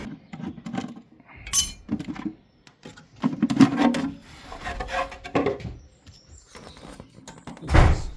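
Metal fittings clink and tap while a pump pressure gauge is fitted onto an oil combi boiler, a run of close, irregular knocks and rattles with brief pauses between them.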